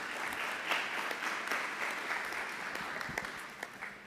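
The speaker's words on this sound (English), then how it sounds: "Let's give them one more round of applause." An audience at a school board meeting gives a round of applause, a steady dense clapping that is moderately loud and continuous for a few seconds, with no voices over it.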